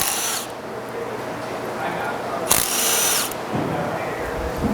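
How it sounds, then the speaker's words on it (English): An impact wrench removes the hold-down cylinder bolt on a 979-2 prototype machine, giving two loud, close bursts of rapid hammering whir, one at the start and one midway, with a quieter mechanical hum between them. "use a 1/2 inch wrench or impact and remove the cylinder for the hold down"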